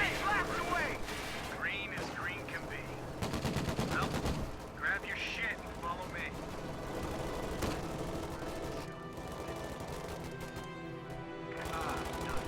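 Bursts of machine gun and rifle fire from a World War II–style strategy video game crackle in dense, overlapping volleys under steady commentary talk, with a sharper sustained burst midway.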